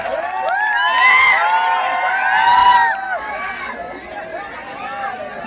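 An audience at a tea shop opening in Thara cheers and shouts to welcome a team, with loud overlapping voices and whoops swelling and then easing into crowd chatter.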